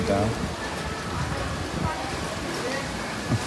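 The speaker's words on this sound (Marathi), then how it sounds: "पाऊस पडायला स्टार्ट झालाय" Rain begins falling outdoors as a steady, even hiss of drops that fills the whole stretch, with faint voices underneath.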